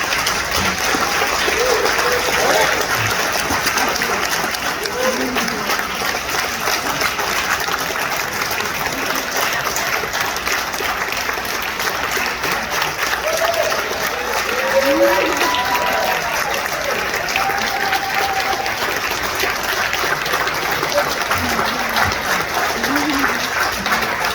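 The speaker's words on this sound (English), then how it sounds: "I would like his family to rise, please, and so we can applaud them and ask John to come up." Audience applause fills an honoring ceremony hall, a sustained, dense clapping from a large crowd lasting over twenty seconds with a few faint voices and exclamations rising through it.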